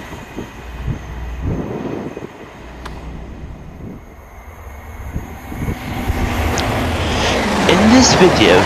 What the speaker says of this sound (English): Whilst in queue, 221131 passes towards Edinburgh.